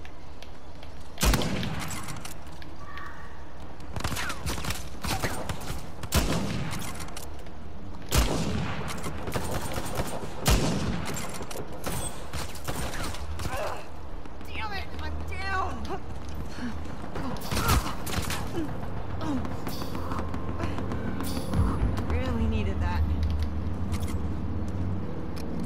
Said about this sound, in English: You guys are using rapid fire.